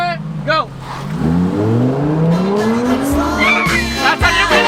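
A Lamborghini Evo and a Tesla Model X Performance race side by side, with a loud engine note climbing steadily in pitch, tire noise and brief squeals, while excited voices shout nearby.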